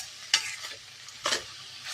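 Grated coconut frying in oil in a pan, with a soft continuous sizzle broken by two sharper scraping stirs, close and with no voices.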